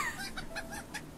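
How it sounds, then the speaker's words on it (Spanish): Chickens in the Mushroom Oasis video game, several short clucks in quick succession, close and moderately loud. "Ah, son gallinas."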